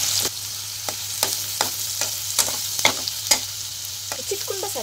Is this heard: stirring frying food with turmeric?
yes